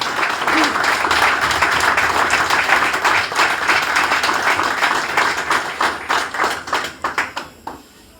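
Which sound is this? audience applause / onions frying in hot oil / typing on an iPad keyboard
audience applause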